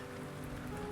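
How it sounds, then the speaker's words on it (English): Steady rain falling as a story sound effect, a dense soft patter of drops with a faint low rumble, continuous and moderately quiet. "It's raining blood."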